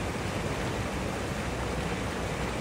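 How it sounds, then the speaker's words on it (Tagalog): Strong water current rushing through a shallow sea, heard as a steady, dense broadband roar with no breaks, loud and close throughout, with no talking. "Malakas yung agos."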